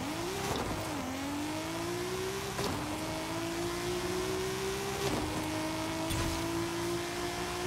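A Datsun 240Z in Forza Horizon 5 launches for a drag race, its engine climbing through rising revs with sharp drops at each gear shift, a steady pull that repeats across several gears.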